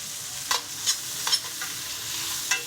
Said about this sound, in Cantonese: 將啲牛辣條啦放落去煎香佢